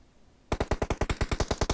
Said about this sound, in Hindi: पैड़ पैड़ गोलियां चलने लगती हैं।